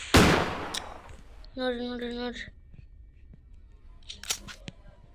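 A shotgun fires once in the Granny horror video game: a loud, close blast at the start, then a short tonal game sound and a few quiet clicks.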